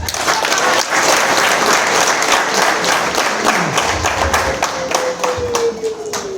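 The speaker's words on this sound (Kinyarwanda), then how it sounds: "Tubaha amashyi rwose." Loud, dense applause from an audience at an FPR Inkotanyi general assembly in Gisuna, Byumba, steady clapping filling the whole stretch with a faint voice or tone gliding through near the end.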